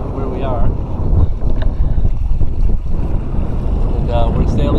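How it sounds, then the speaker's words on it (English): Sailboat on a beam reach in a little over 10 knots of wind near Noname Cay, with steady loud wind buffeting and rushing water filling the whole stretch, and a voice talking faintly underneath. "Beautiful beam reach today, a little over 10 knots."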